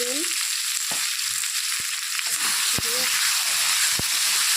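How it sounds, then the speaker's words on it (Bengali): Potatoes and pointed gourd fry in hot oil with a steady, bright sizzle and hiss throughout, while faint voices and small kitchen clinks sit low underneath. "আলু পটলগুলো ভেজে নেব একটু"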